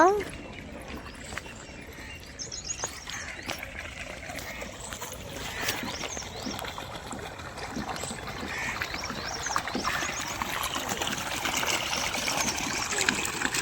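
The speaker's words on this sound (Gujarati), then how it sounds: "જો નેકમાં જો મસ્ત પાણી" Water runs in a farm irrigation canal beside a wheat field, a soft steady trickle and flow heard at low level, with people talking faintly over it.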